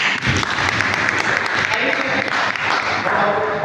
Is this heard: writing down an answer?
no